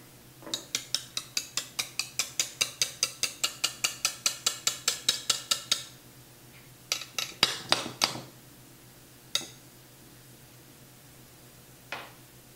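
Rubber spatula scraping the sides of a mixing bowl after whipping in a stand mixer, heard as a fast run of about thirty even scraping strokes, then a few louder scattered scrapes and a faint final one, close and alone.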